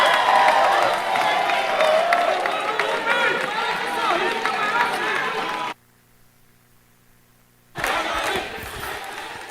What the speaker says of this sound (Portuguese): Continue vaiando.